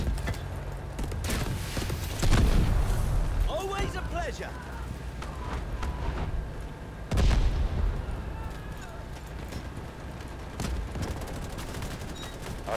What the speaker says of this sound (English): Artillery cover coming.